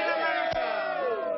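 A big crowd cheers and shouts at an outdoor harmonica festival, a dense, steady roar of many voices filling the whole moment without letup.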